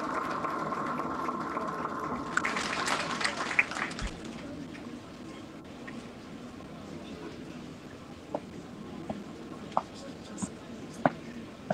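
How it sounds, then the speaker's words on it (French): An audience at a Haitian National Police graduation ceremony bursts into brief, dense applause after a voice and a held tone, then it fades into a quieter hall with scattered clicks and knocks. "Sous vos applaudissements."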